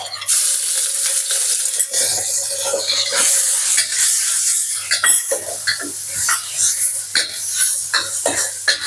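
Minced pork stir-fries in hot oil in a wok for eggplant with minced pork, giving a steady loud sizzle with scraping bursts of stirring throughout.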